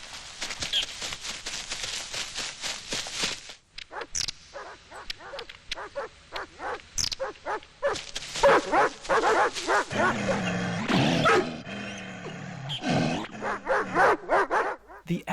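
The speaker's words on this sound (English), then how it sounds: "The echo of the dogs and birds make this forest seem so endless and foreign." Dogs bark repeatedly in quick bursts in a forest in an anime, some yips and whimpers among them, the barks ringing with a hollow echo across an open space.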